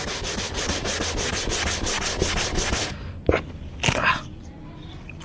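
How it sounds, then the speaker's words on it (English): Steady back-and-forth rasping of sandpaper on a sanding block against primed motorbike bodywork, loud and close in a regular rhythm, then stopping into a few scattered knocks and brushes. "This lets you apply even amount of pressure and sand it down."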